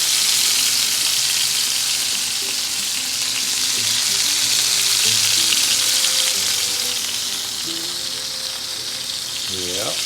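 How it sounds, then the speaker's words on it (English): Burger patties fry on a griddle with a loud, dense, continuous sizzle and crackle held close up, and a brief voice rising at the very end. "Frying these patties is a dirty job,"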